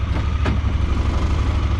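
A Honda Pioneer 1000-5 utility vehicle's engine idles steadily after a spark plug change. The low, even rumble is close and loud throughout, with no talk.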